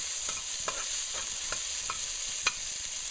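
Frying in a pot for Multani soup, a continuous soft sizzle with regular stirring clicks and scrapes, fairly quiet and close, no voices.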